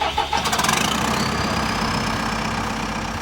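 A tractor engine being started: a quick rhythmic crank that fires into a loud, steady diesel-like idle rumble, heard close and alone.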